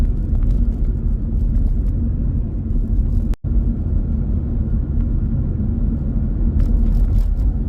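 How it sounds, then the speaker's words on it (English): A car cruises along an island road in the Cayman Islands at sunset, a steady close engine and road rumble throughout, broken only by one brief dropout midway, with no talking. "Driving into the sunset."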